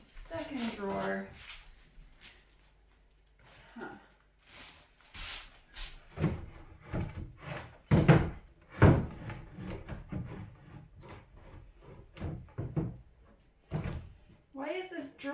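Wooden drawer pulled from antique furniture in a farmhouse kitchen, giving a few scattered knocks and sliding thunks close by under steady talking.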